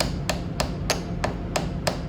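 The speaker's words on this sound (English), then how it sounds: "Just hammer right on the pliers and the nut." Six evenly spaced, sharp metallic taps of a hammer striking pliers that hold a nut during assembly of a diffraction kit, close and clear over a steady background hum.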